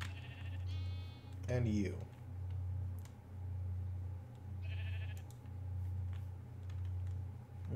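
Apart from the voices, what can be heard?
sheep bleating in the video game Minecraft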